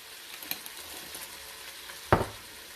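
Onion and seasonings for chili sizzle faintly in a pot, with a soft clink early on and a sharp scrape or stir knock about two-thirds through.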